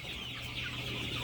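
Sonali chickens on a poultry farm, a brief stretch of overlapping clucks and chatter from several birds at moderate distance, steady and fairly quiet, with no talk.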